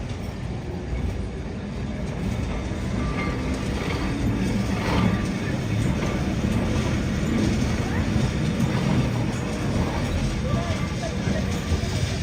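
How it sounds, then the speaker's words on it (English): A Lisbon number 28 tram rumbles past in Alfama with a steady low roar and faint rail clatter that swells slightly midway and fades slowly. "There's a tram coming,"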